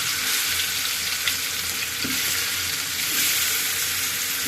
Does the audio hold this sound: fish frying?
yes